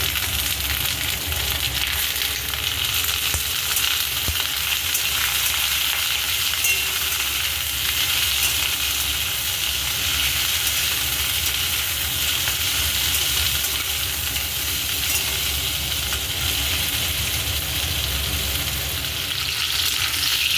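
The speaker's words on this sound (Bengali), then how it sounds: "পটলগুলো আমার ভাজা হয়ে গেছে" Pointed gourd fries in hot oil with a loud, continuous sizzle and crackle, close by and unbroken.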